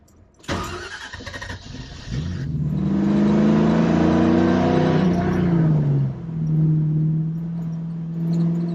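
A 1968 Ford Mustang Fastback's engine cranks and catches, then its V8 rumble swells steadily as the car pulls away, loud and close, easing briefly before rising again with no talk over it.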